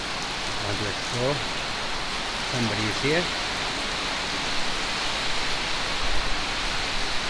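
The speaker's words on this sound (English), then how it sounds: "Oh, it's heavy rain here" Heavy rain falls in a forest in southern Thailand as a steady, dense hiss that fills the whole stretch, with a voice speaking briefly over it near the start.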